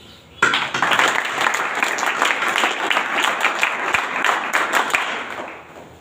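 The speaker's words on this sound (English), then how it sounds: "Now girls will not clap, only boys will clap." Boys in a lecture audience clapping, with a crisp burst of applause starting suddenly, staying strong and even for about five seconds, then fading out.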